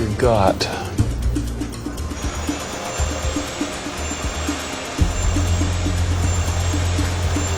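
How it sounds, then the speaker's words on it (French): A loud, steady roar of a jet engine test run at high power, droning continuously with a rising whine and a voice speaking under it, compared against an Air Florida Flight 90 cockpit recording. "le son des réacteurs sera donc identique"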